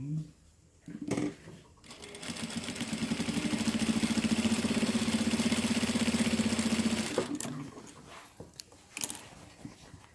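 A domestic sewing machine runs a half-centimeter seam on quilt-as-you-go patchwork in one sustained, close, steady burst of several seconds, with brief handling noises and a voice before and after.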